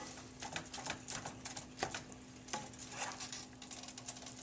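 Chili meat browns in a pan greased with cooking spray, a soft steady sizzle broken by scraping and clinking of a utensil stirring against the pan, fairly quiet and close, with no talking.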